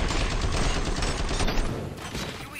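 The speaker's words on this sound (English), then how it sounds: "Gunshots? What's going on?" Rapid gunfire fills a combat scene in the video game Robocop: Rogue City, a dense, loud barrage of shots running continuously with no clear gaps.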